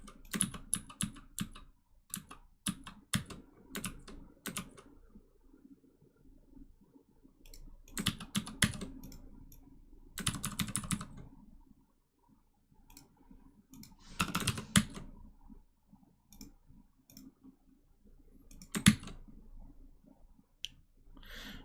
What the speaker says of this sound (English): Keycron is basically a keyboard brand modded, changing keyboard sound